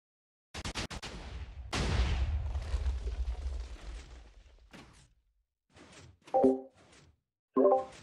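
A TNT cannon fires in a video game: a few sharp cracks, then a loud, rolling explosion that rumbles for several seconds before fading, followed by scattered thuds and clicks.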